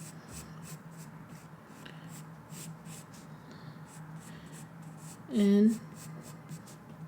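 A pen draws cursive knot-style graphic lettering on paper, making faint, close scratching strokes in a loose rhythm, with a brief spoken word near the end.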